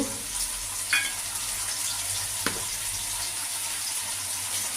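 Onions with ginger, garlic, onion and green chilli paste frying in a pan, a faint, steady sizzle with a couple of brief clinks and stirring knocks, no talking.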